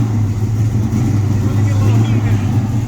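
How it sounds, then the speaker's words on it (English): A 16-plug 1970s Pro Stock Hemi drag engine idles and revs at a Mopar car show, a loud steady low rumble with a thick droning tone and no pauses, with crowd talk mixed underneath. "Don't be revving that too high, Mark."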